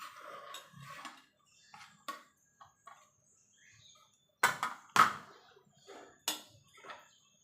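Pieces of pointed gourd go into milk in a pan for a vegetarian Bengali steamed dish, with scattered clinks, light knocks and small splashy drops in quiet intervals and a couple of sharper utensil hits.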